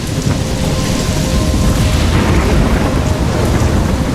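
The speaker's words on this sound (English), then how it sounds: "I'm trapped in a storm." A heavy thunderstorm in the video game Life is Strange, with dense rain pouring down and deep rumbling thunder rolling beneath it, loud and constant throughout.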